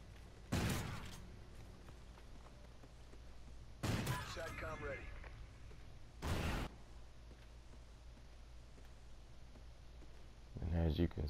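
FP6 shotgun in a first-person shooter video game, three sharp, loud blasts spaced a few seconds apart, with faint clicks and another burst near the end over quiet game ambience.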